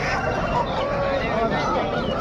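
Dense, steady poultry clamor at a Friday market selling parrot-beak (Kilimooku) chickens, with overlapping clucks and honking calls filling the scene without a break and faint voices mixed in.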